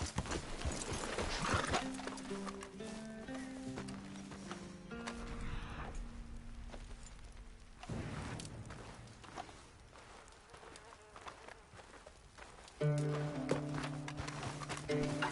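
Horse galloping in the video game Red Dead Redemption 2, rapid rhythmic hoofbeat clip-clop running close and steady, with a whinny and bursts of game music tones mixed in.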